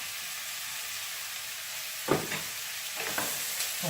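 Vegetables fry in oil in a pan for a cod dish, giving a steady close sizzle broken by a couple of short scraping stirs near the end.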